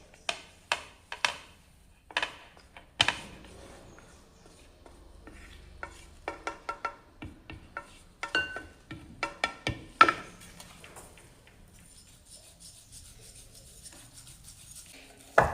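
Eggless chocolate cake batter being mixed in a bowl, a series of soft, sporadic scraping and tapping strokes with uneven spacing, quiet and close, with near-silent gaps between bursts.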